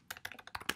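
Quick, light keystrokes on a computer keyboard, about seven close clicks in under a second, rapid and slightly uneven, heard alone at low volume.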